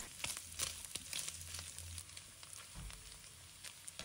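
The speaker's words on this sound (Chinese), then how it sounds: "再把腊肠放入锅中，把它炒出香味" Chinese sausage and pork belly stir-fry in a hot wok, a soft crackling sizzle broken by scraping spatula strokes and clatters, fairly quiet and close, with no talk.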